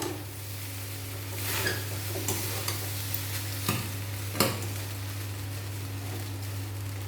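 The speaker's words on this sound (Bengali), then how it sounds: "সেদ্ধ করা ভাত দিয়ে দেবো এরপর ভাত ঘিয়ের মধ্যে নাড়াচাড়া করে নেবো" Boiled rice being stirred in ghee in a pan for vegetable fried rice: a soft continuous sizzle with scattered scraping strokes of the spatula against the pan over a steady background hum.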